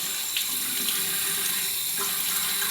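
Warm tap water runs steadily into a bathroom sink while shaving cream is rinsed off, a close, continuous splashing stream with small surges and no talking.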